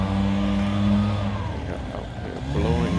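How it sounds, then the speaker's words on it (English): A leaf blower drones while clearing leaves outdoors, a steady motor whine with shifting pitch and a brief rise near the end. "Got out here blowing leaves."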